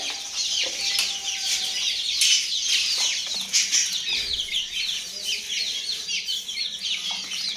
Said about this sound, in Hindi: मुर्गी चूजों को बुला रही है, सारे चूजे इकट्ठे हो गए हैं।